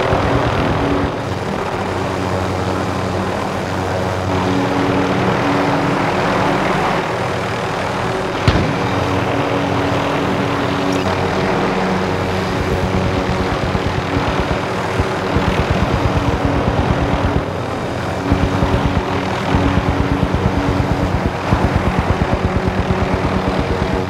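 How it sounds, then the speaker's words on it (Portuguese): A helicopter in the video game Call of Duty: Modern Warfare holds position nearby with a loud, steady engine drone, and a rhythmic rotor chop grows more pronounced as it goes on, with no talk. "Helicóptero em posição, pronto para o depósito."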